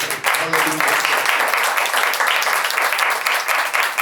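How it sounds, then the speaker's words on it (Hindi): Church congregation giving loud, dense, continuous applause for the whole stretch, with brief voices mixed in at the start. "आए जोरदार तालियां यीशु के जलाल के लिए"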